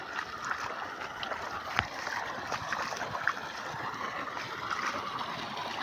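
Water flows steadily in an outdoor stream at Koomapatti, a continuous close rushing and gurgling wash with no break across the stretch.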